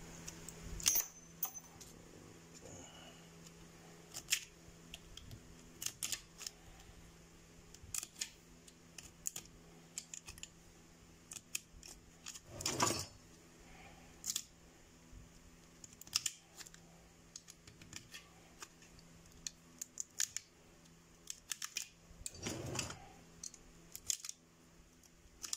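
Scissors snip thread while a three-phase electric motor is rewound, a few sharp close clicks scattered through an otherwise quiet workshop with faint background hum and small handling noises.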